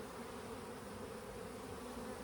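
Dense, steady humming and buzzing from a crowded honeybee hive preparing to swarm, close and continuous with no voices.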